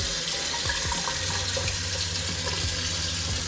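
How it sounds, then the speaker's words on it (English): Tap water runs steadily from a bathroom faucet in a converted school bus (skoolie) after the onboard water pump is switched on, a continuous close rushing flow with low pump thumps underneath. "we'll hit the pump. And then we should have water."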